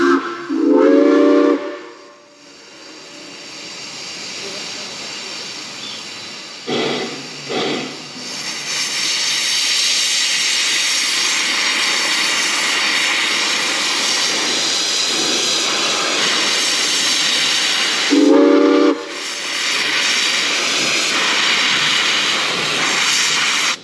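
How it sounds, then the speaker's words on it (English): An old steam train at Victor Harbor sounds its whistle in short blasts, then a loud steady hiss of steam carries on as the train pulls away, with one more whistle near the end. "come up and ride an old steam train"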